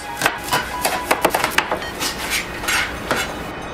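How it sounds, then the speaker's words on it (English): A knife chopping green onions on a cutting board, a quick run of crisp, close taps in an irregular rhythm, with no voices. "We'll also quickly cut up some green onions."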